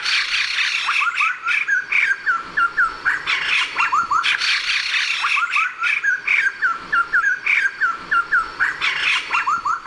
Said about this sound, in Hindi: मैं आपको सबसे पहले इस समूह के सबसे प्रसिद्ध सदस्य व्हाइट क्रेस्टेड लाफिंग थ्रस की ऐसे ही टोली से मिलाता हूं।